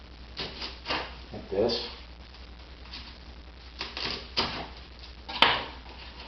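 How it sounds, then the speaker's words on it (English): A knife cuts the ends off vegetables for a ragu, giving a few close, sharp chops and thuds on a board, spaced irregularly, with a voice speaking briefly. "And what I do is I cut the ends off."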